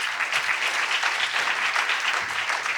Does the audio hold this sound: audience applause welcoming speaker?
yes